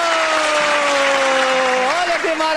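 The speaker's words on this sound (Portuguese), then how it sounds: "Aplausos" Audience applause at a street event in Petrópolis, in the south zone of Manaus: a steady, dense wash of clapping, with a sustained voice-like tone sliding over it.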